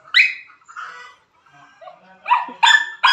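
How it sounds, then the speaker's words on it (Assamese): A village dog barks several times at close range, in short sharp bursts separated by brief pauses. "সি মানে মোৰ ওচৰত আহি পেলাই ভুকি আছে।"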